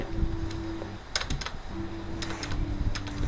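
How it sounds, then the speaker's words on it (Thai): Computer keyboard keys tapped during a Medal of Honor Warfighter gaming session, two short bursts of quick clicks over steady game music and background sound. "ผมได้ยินเสียงคีย์บอร์ดใช่ไหมครับ"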